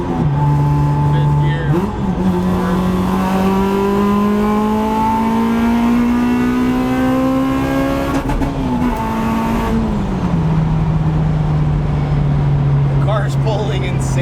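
A supercharged car on sticky tires accelerates hard, the engine note climbing loud and close through a gear, then dropping at a shift and pulling again, with a voice talking over it.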